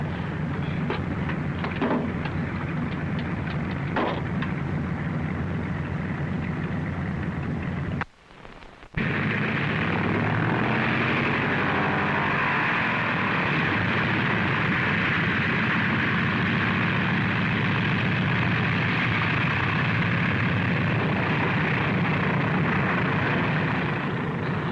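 A 1940s propeller airplane takes off with a loud, steady engine roar that is briefly cut, then resumes and holds at full power for a long stretch.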